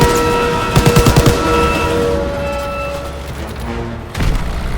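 Gunfire and explosions in the video game Call of Duty WW2 during a train mission: a burst of rapid automatic shots, booming blasts and a steady rumble of the moving train, loud and close.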